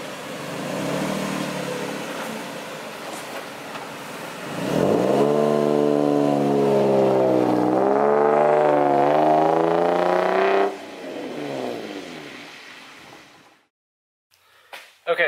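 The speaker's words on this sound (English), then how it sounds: "All right, another car, super loud." A loud Acura RSX engine revs up hard, its pitch climbing and holding for several seconds before dropping off, then fading toward near silence.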